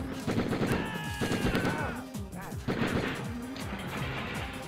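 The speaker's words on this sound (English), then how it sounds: "apparently John McClane can shoot through walls" Rapid handgun fire in the Die Hard Trilogy video game, bursts of sharp shots in quick succession with a brief lull near the middle before firing resumes, loud and punchy over game music.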